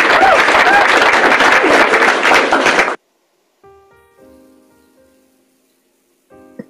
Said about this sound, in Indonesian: Tepuk tangan buat Aiman yang cakep dan manis.